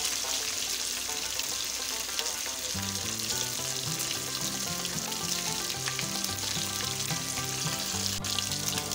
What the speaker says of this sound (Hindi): ऑयल में फ्राई करने का मकसद ये होता है कि इसका कच्चा कच्चा टेस्ट ना आए लहसुन का।